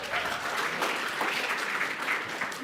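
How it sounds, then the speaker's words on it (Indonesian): An audience claps together in a steady, close wash of applause that stays even in loudness throughout, with no voices on top. "Tepuk tangan dong yang meriah"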